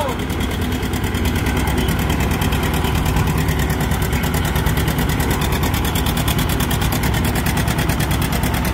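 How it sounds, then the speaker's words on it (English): A 1953 John Deere R diesel tractor at a county tractor pull drones loud and steady, a continuous throbbing engine roar with fast even pulses, while a voice talks over it. "John Deere diesel R."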